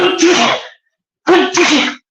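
Two sneezes about a second apart, loud and close, each a sharp burst with no other sounds around them.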